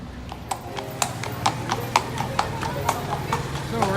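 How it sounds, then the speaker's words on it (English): Horses clop down a street in Florence, hooves striking the pavement in a regular walking rhythm of sharp, close knocks over a low murmur of street ambience. "Horses walking down the street."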